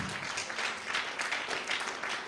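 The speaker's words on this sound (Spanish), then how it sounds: "Den un aplauso al Señor." A church congregation applauds together, a dense, even wash of clapping that holds steady for a couple of seconds with no voices over it.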